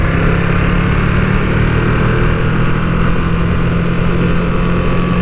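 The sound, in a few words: Ducati V2 Streetfighter motorcycle engine, standard exhaust, riding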